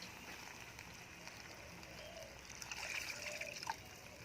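Water pours quietly into a pan of marinated chicken, a faint trickling and splashing that swells slightly near the end over low background noise.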